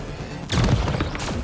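Turret gunfire in the Mass Effect Andromeda video game, a loud burst of crashing shots and impacts that starts abruptly midway, with a second sharp hit near the end.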